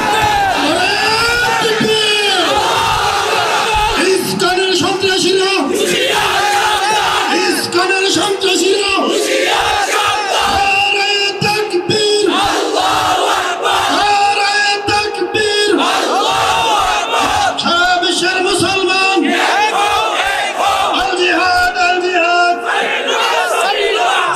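A large crowd chants slogans in loud, rhythmic bursts that answer a leading voice, cheering and yelling as one, close and unbroken throughout.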